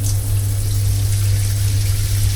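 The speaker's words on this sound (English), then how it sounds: "enjoying a nice hot shower before bed" A hot shower runs steadily in a deluxe sleeper compartment on a EuroNight train from Košice to Prague, a close, continuous spray of water over a low, constant rumble.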